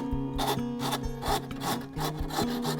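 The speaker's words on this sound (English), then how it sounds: "Again, just use the rasp and go round at 45 degrees." A rasp filing wood while rounding over the edges of a wooden coat hook, giving rhythmic rough scraping strokes about two per second, close and alone.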